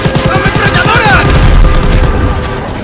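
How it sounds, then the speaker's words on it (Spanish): Rapid machine gun bursts and gunfire from the World War II shooter game Call of Duty: WWII, set in a battle around a train, loud and continuous with a booming low rumble and shouting voices over the fire. "¡Ametralladoras!"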